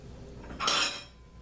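Chopped liver being served onto a plate, a brief clatter of cutlery against dishware midway through, close and fairly soft over quiet room background.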